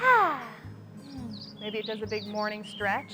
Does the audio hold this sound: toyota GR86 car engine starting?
no